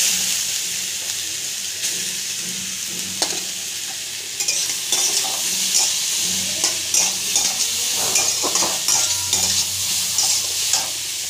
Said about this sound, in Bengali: গাজরগুলো এই ঘিয়ের মধ্যে দিয়ে ভেজে নেব।